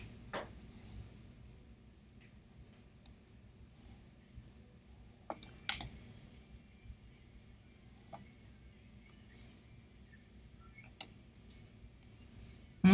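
Faint, sparse computer mouse clicks, single and in quick pairs, scattered irregularly over a quiet room hum while items are dragged and placed.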